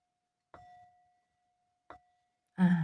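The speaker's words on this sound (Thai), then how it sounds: "ตีระฆังให้อีกหนึ่งทีค่ะ" A bell is struck twice, each strike a clear ringing tone that fades quickly, followed by a sudden loud burst at the end.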